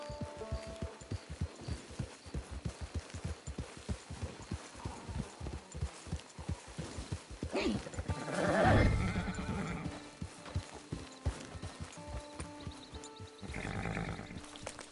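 In Red Dead Redemption 2, a horse's hooves clip-clop in a steady walking rhythm, then a loud close whinny rises near the middle, followed by more hoofbeats and a second fainter neigh near the end.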